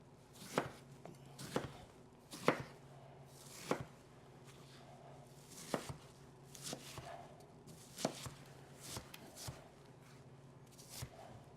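An apple chopped with a knife on a cutting board: about a dozen sharp, separate knocks of the blade at an uneven pace, close and fairly loud over a quiet kitchen background, with no talking.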